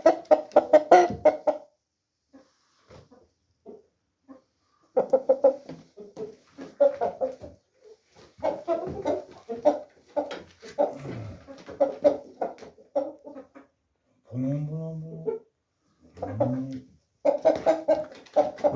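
A rooster clucking close by, short bursts of throaty clucks and calls coming in uneven clusters separated by quiet gaps.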